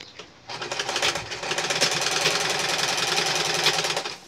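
Sewing machine stitching fabric scraps for a child's patchwork bag, a steady rapid mechanical whirr that starts after a brief pause and runs continuously and loud close by.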